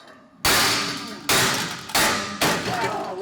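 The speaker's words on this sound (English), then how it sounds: "Second hammer blow." Sledgehammer blows striking a steel welding table during a durability test comparing a Siegmund table and a Fireball Tool table, four loud, sharp metallic clangs ringing out with long decays, spaced roughly every half to one second.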